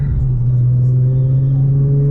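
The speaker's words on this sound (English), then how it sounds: "You can maybe hear the car a little bit better." A steady low Infiniti G35 engine rumble drones on without a break, heard from close by with a constant hum and no other sounds.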